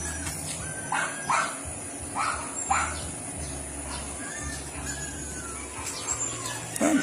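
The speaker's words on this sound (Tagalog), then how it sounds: "Ayan yung aso ko guys." A dog barks several times at a moderate distance, short sharp yaps spaced irregularly over steady outdoor background noise.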